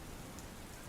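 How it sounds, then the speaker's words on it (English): Steady rain with a dense, even hiss of drops falling on surfaces, faint and continuous, with no clear thunder strike. "Why did it have to be rain and thunder?"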